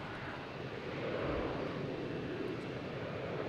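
A British Airways airliner on the runway at Boston's Logan Airport gives off a steady, broad jet roar that swells slightly and holds, heard from a moderate distance with wind-like hiss.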